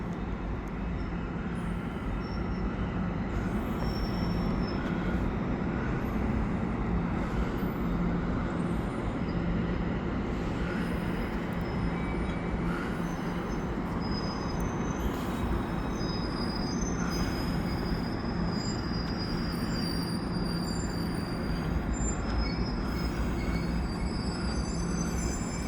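An EXO commuter train from Vaudreuil pulls into the Lucien L'Allier terminal in Montreal, a steady rumble of railcars and wheels with faint high squeals, moderately distant and continuous throughout.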